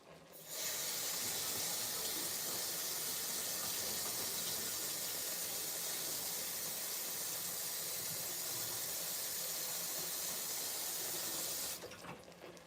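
Water poured from a tap into a pot of boiling okra, a steady rushing hiss that starts abruptly, runs unbroken for about eleven seconds, then cuts off.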